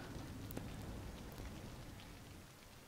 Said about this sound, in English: Man, I wish it wasn't raining all the time.